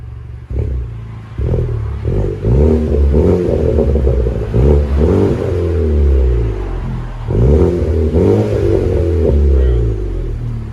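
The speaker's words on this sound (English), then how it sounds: "Chevy Malibu LT with a muffler delete" A 2017 Chevy Malibu LT 4-cylinder with a muffler delete revs repeatedly up close, its loud, raspy exhaust note climbing and falling in several bursts with short idle dips between.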